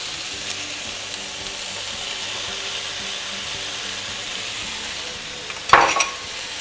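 Soft paneer being broken up in a pan with peas, a steady low sizzle and faint stirring scrape throughout, then a brief louder clatter near the end.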